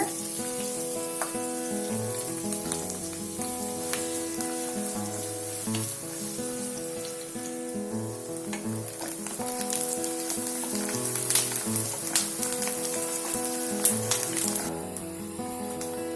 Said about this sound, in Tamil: வெங்காயம் கொஞ்சம் நல்லா பொன்னிறமா வர வரைக்கும் வதக்கிடுங்க.